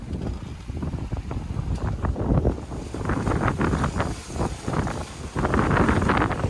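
Strong wind on an 18ft sailboat buffets the microphone in gusty, roaring bursts, with a rushing, sea-like wash underneath and no talking.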